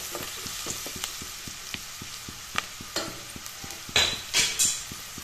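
Chili powder and coriander powder are stirred in a hot pan for an Assamese fish curry with cauliflower. A soft, steady sizzle runs under regular, rhythmic spatula taps and scrapes, and a few louder metallic clanks come near the end. No one speaks.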